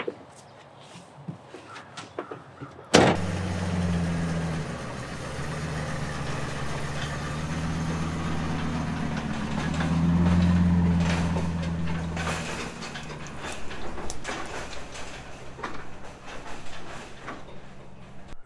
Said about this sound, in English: So let me just pull this truck out of here.